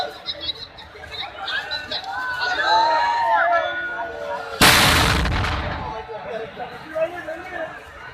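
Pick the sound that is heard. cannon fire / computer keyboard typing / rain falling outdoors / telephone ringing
cannon fire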